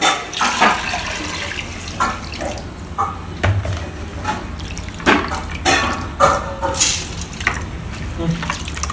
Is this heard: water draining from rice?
yes